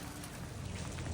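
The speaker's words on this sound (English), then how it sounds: "we're starting to see rain finally" Steady rain in southern Colorado hisses evenly and close, a dense wash of patter with no breaks and no voices.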